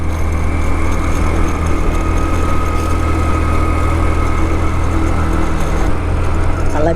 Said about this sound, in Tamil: அழகாக ஏறுதுங்க நம்ம வண்டியெல்லாம்.